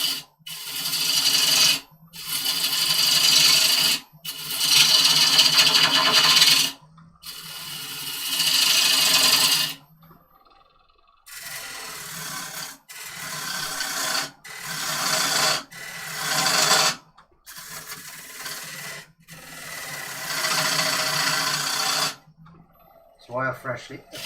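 A wood turner takes heavier-than-usual cuts on a lathe with a freshly sharpened tool. Harsh, rasping cutting noise comes in repeated bursts lasting a few seconds each, separated by short quiet gaps.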